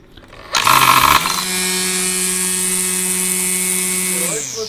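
Husqvarna 536LiL cordless grass trimmer switching on with a brief loud whirring burst as it trims its cutting line, then settling into a steady high-pitched electric whine that winds down at the end.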